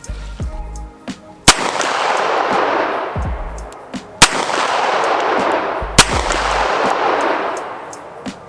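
A CZ Shadow 2 pistol firing at long range outdoors in fog: three sharp, loud gunshots spaced a few seconds apart, each trailed by a long rolling echo.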